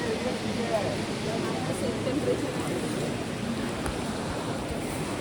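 Steady rushing water of a river near Badrinath, among snowy mountains below freezing, flows without pause, a continuous broadband roar with a hint of wind, holding an even level throughout.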